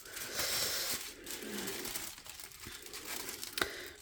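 Packaging from a December Chibi Hour subscription box crinkles and tears up close, with bursts of rustling paper or plastic and a few sharp snaps, no talk.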